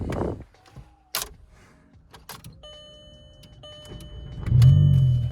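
Clicks and mechanical rattles, then a Nissan 300ZX engine cranks and rumbles to life from a cold start near the end, low and close.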